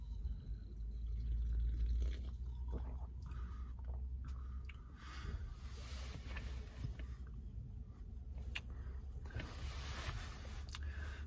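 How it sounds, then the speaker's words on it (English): 365 Whole Foods cherry vanilla crème soda is sipped close up, giving wet slurps, swallows and small fizzy squishes that come and go over quiet handling noises, with no talking. "I'm gonna take one more sip before I start judging any of this."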